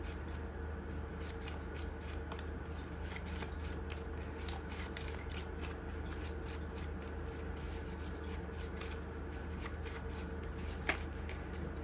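A deck of tarot cards is shuffled during a reading: a steady, close rustle of cards rubbing, with quick flicking riffles running throughout and no voices.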